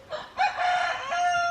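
A homestead rooster crows once, close and loud, a long strained call with a rising start and a held, wavering end, with no one talking.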